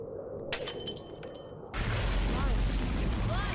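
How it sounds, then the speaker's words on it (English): A lantern in the video game Where the Bees Make Honey falls and shatters with a bright crash, then a loud, steady roar of fire and explosions takes over and holds. "Just circle around the lantern and again it will just fall down and boom, light up the whole place."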